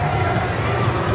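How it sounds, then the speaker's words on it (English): Applause spreads around a cricket ground as India are bowled out for 307 in a Test match against South Africa: a dense, steady wash of clapping and crowd noise lasting the whole moment, with a commentator's voice over it. "And there will be applause all around the ground."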